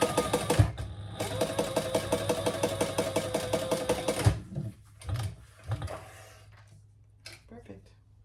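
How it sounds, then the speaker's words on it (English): A sewing machine runs a fast chain stitch through leather for about four seconds, a rapid even mechanical rattle close by, then stops, followed by a few handling knocks and brief quiet talk. "do some chain stitching"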